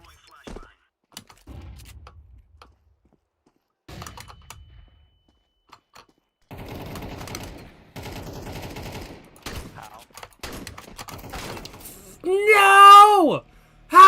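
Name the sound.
gunfire in the video game Counter-Strike 2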